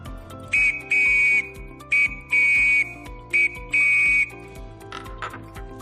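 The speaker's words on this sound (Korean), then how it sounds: "호루라기로 한번 불어보도록 하겠습니다" A shrill whistle blows in a pattern of short and long blasts, repeated three times in a steady rhythm, loud and close.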